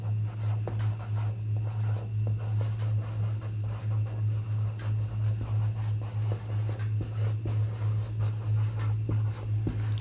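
Equations are written on a board during a Class 11 physics lesson on projectile motion. The pen scratches and taps come in short strokes and pauses, with a steady low electrical hum running beneath them the whole time and no speech.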